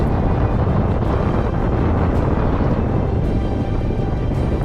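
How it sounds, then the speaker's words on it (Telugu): Steady broadband wind roars past the microphone during a paragliding flight over Bir Billing, loud and continuous throughout with no voices. "గాలి సౌండ్ తప్ప ఇంకేమీ మనకి వినిపించదు."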